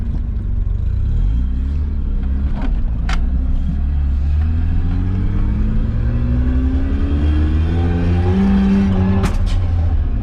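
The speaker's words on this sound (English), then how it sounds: "I'm able to go to redline without it backfiring" Rotary engine of a Mazda RX-7 FC revving hard toward redline, pitch climbing in repeated rising sweeps, loud and close with a steady rumbling drone, brief sharp pops along the way, no talk.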